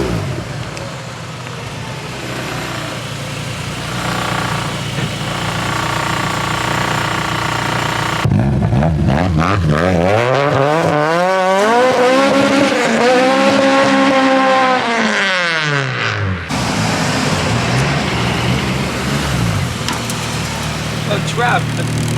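A Honda K24A engine climbs through a long, screaming rev sweep on a dyno, its pitch rising and falling loudly between stretches of steadier engine roar.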